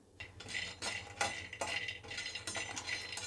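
Cashews roasting in a pan for panjiri, heard as repeated scraping and stirring strokes of a spatula against the pan over about three seconds, fairly close and steady, with no voices.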